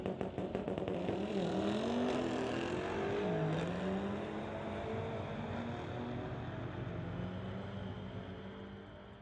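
Street legal cars drag racing down the strip at Mission Raceways, engines roaring loud and steady with rising and falling pitch sweeps as they accelerate away, fading slightly toward the end.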